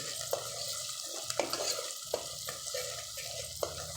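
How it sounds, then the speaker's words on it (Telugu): Ginger garlic paste frying with red chilli powder being stirred into it, a soft sizzle under repeated scrapes and clinks of a spoon against the pan, with no speech. "అల్లం వెల్లుల్లి పేస్టు కొంచెం ఫ్రై అయిన తర్వాత అందులోకి కర్రీలో సరిపోయినంత రెడ్ చిల్లీ పౌడర్ వేసి కలుపుకోవాలి"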